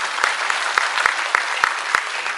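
An audience at a ventriloquist show claps together in steady applause, with sharp individual claps standing out from a dense, even patter close by.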